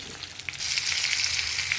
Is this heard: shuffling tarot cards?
no